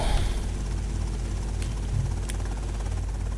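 A helicopter in the video game GTA Vice City, a steady low rotor thrum and engine drone running continuously at moderate level with a couple of faint brief higher clicks, no talk.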